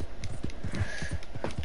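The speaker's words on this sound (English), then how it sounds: "get on my horse and I'm just off over to the camp" A horse's hooves clip-clop at a slow gait in Red Dead Redemption, with steady, evenly spaced thuds close by.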